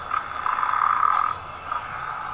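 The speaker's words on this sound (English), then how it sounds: "So these are the pickerel frogs" A chorus of pickerel frogs calls as a dense, steady wall of overlapping croaks that swells and eases slightly, loud and continuous, with no voices.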